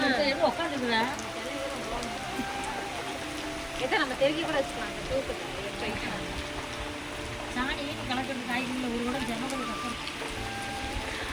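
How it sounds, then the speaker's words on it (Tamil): Rain comes down during bright sunshine outside a newly bought house, a continuous patter of drops on surfaces running throughout while people talk over it. "அப்படி வெயில் அடிச்சுக்கிட்டே மழை பெய்யுது"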